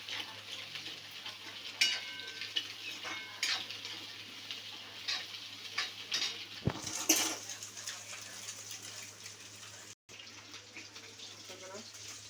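Food sizzles and hisses steadily in a pan while Chinese-style rice is made, a broadband frying noise with occasional stirring scrapes and clatters close up, and a voice speaking over it.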